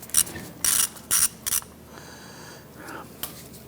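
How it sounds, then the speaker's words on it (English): Ratchet loosening a 5/16 bolt on the ABS speed sensor of a 1997–2006 Jeep Wrangler, with a few short, sharp clicking bursts close by, followed by quieter handling noises. "There's a 5/16 bolt on the back side securing that. So you want to go ahead, loosen and remove that bolt."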